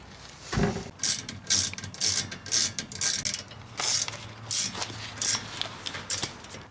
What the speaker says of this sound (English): And then hit it down with the wrench.